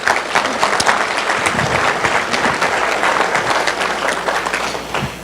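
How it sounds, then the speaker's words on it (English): A room of attendees at a business meeting gives a loud, sustained round of applause with sharp individual claps audible close by, running steadily for several seconds with a faint voice underneath. "Round of applause to everybody."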